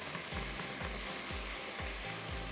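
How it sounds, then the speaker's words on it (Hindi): Minced meat frying with spices, tomato paste and tomatoes, a dense steady sizzle under a repeating low rhythmic thump, no talking. "कीमे को अच्छी तरह भूनिए मसालों के साथ"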